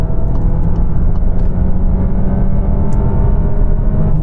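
A Volkswagen Tiguan 1.5 petrol engine revs hard under full-throttle acceleration from about 40 mph on a dual carriageway, a loud, steady, droning roar with dense low rumble and whirring tones, heard from inside the car with no talking.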